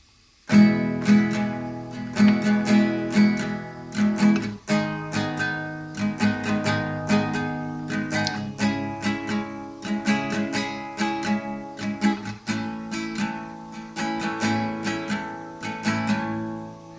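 An acoustic guitar with a capo strums the chorus chords of a song in a steady, even strumming pattern, close and clear, alone throughout.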